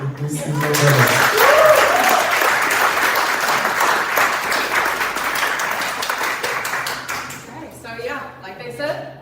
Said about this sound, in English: Can we get a small applause for the moderators?